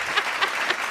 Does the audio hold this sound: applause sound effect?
yes